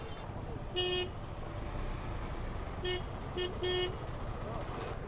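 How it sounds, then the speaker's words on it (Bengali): A motorbike horn with a wiring fault gives short honks: one long blast, then a quick burst of three uneven toots, moderately loud over steady traffic rumble on a busy street. "ট্রাফিক পুলিশকে দেখে আমার বাইক হর্ন ঠিক হয়ে গেছে"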